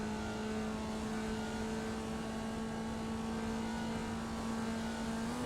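Formula Vee race car engine in iRacing, screaming at high revs as one continuous steady tone with a constant pitch and no breaks, fairly quiet under a broad noise bed.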